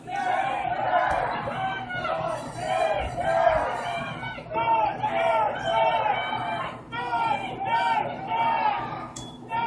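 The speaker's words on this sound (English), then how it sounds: "Can't tell what's going on in the crowd, but a raucous cheer." A crowd at a Pittsburgh Thunderbirds vs Detroit Mechanix game lets out a raucous cheer with shouts and chatter, while a commentator keeps talking over the noise.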